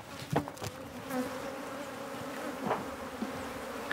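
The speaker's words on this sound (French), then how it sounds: "l'apiculture est encore pratiquée sur ces ruches en roseau, à l'ancienne" Honeybees hum around old-style reed beehives set in pesticide-free countryside, a steady soft buzzing with a few closer insects swelling briefly as they pass, and no voices.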